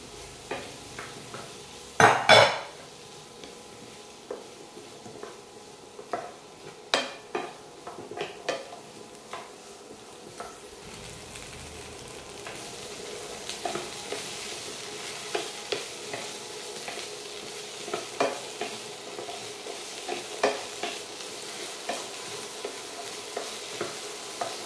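Small cubes of two medium potatoes fry in a pan with a steady sizzle as a utensil repeatedly scrapes and stirs, giving sharp clinks and knocks against the metal, one louder clatter near the start, with no talking.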